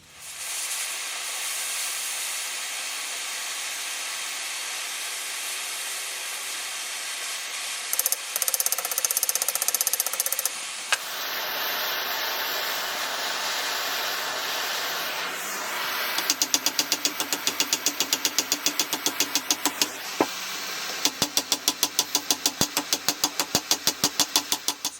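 A forge heating a sword crossguard red hot gives a continuous loud roaring blast, later overlaid by rapid rhythmic mechanical clicking.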